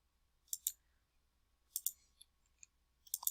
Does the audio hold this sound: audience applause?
no